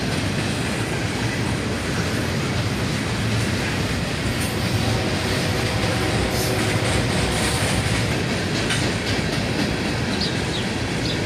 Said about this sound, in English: This was another big manifest train, southbound this time.